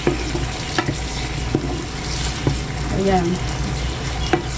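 Tomatoes and chili sautéing in a pan for bagoong alamang with pork, with a steady frying sizzle and a few sharp utensil clicks close by while someone speaks briefly.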